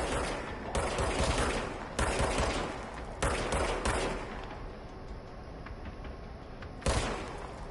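Gunshots from the action game Control come in several loud bursts of rapid fire, each lasting about a second, separated by short gaps, with no talking over them.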